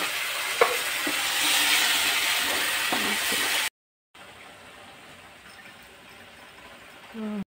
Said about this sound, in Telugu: నేనా చికెన్ ఫ్రై చేస్తున్నాను.